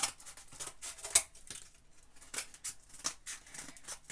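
Scissors cut through craft material for a small Christmas sled, making a close run of quiet, crisp snipping strokes at an uneven rhythm.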